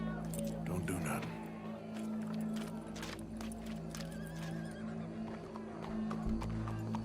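A horse in Red Dead Redemption 2 whinnies and snorts while hooves clop, set against busy background noise and a steady hum, with the horse sounds loud and close throughout.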